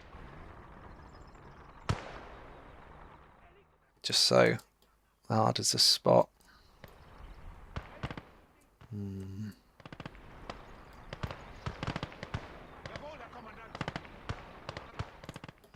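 Small soft pops and hissing bursts of smoke grenades in the WWII game Gates of Hell, a few short blasts among scattered distant gunfire clicks, with someone talking in between.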